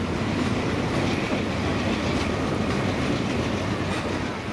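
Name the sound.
freight train passing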